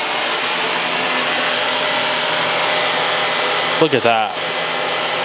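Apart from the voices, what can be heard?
Shark Navigator Zero-M vacuum cleaner running on carpet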